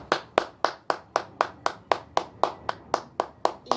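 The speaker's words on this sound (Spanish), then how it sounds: "Y las palmas para el que vive y reina" A church congregation claps hands in a steady, even rhythm, about four sharp claps per second, close and crisp with no talking.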